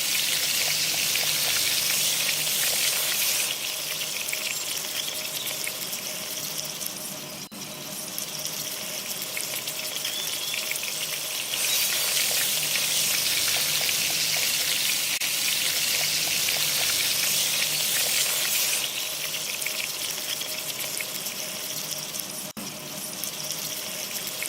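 Tamarind water being stirred into a ginger curry paste for a Kerala sadhya inji curry, a steady wet sizzling and bubbling that runs without a break for the whole stretch, close and fairly loud, with no talking.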